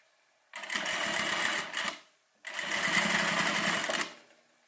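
A sewing machine top stitches a homemade airliner cabin bag at a longer stitch length, running in two steady whirring bursts separated by a short pause, close and fairly loud with no talking.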